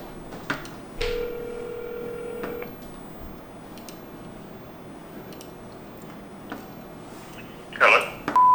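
A phone call being placed, with a brief tone near the start and a quiet line afterward, then a short burst of sound near the end as the call connects.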